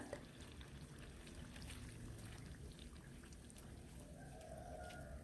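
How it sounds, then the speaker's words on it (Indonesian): Banana fritters frying in hot oil, a steady close crackling sizzle like light rain that carries on without a break, quiet and with no talk. "Lanjut di sini digoreng sisanya."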